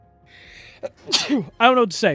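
One sharp sneeze bursts out near the start, and a person then speaks a short sentence close by.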